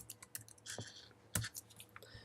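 Keys tapped on a computer keyboard while entering a line of Java code, a short uneven run of quiet clicks with one sharper keystroke near the middle, close and otherwise alone.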